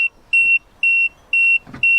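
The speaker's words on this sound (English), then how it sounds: "Release foot brake, a bit of beeping going on." A 2010 Peugeot 3008 1.6 HDi's electronic warning chime beeps steadily, five high-pitched tones in an even rhythm with short gaps, close and clear.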